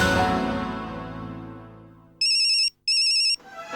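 An electronic phone ringtone trills in two loud, evenly spaced bursts, coming in as an incoming call just after a sustained musical tone fades out.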